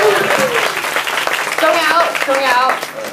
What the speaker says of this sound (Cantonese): 俾啲掌聲好唔好啊？